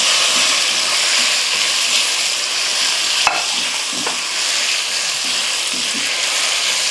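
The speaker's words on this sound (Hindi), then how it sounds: "फ्लेम हमारा मीडियम है, हम आंवलों को भुनाई करेंगे 2 मिनट के लिए।" Indian gooseberries (amla) roast in a pan over a medium flame, giving a loud, even sizzle with a bright hiss throughout and one sharp click near the middle; nobody speaks.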